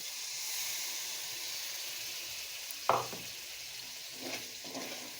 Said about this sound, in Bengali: এই যে মিক্সি ধোয়া জলটা এর মধ্যে এখন আমি দিয়ে দেব।